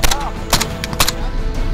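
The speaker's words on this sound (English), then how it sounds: "We have even heavier machine gun fire" Heavy machine gun fire during a military ambush training exercise, loud close bursts of sharp cracks in quick succession layered over a dense, noisy background.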